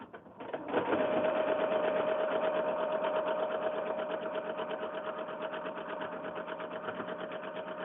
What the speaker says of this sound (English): we're just now going to sew a 1/4 inch seam down this side and then add the other side